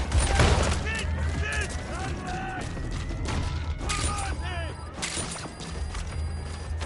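Gunfire bursts in the video game Metal Gear Solid 5, scattered shots and mechanical clatter mixed with game effects, with a person talking over parts of it.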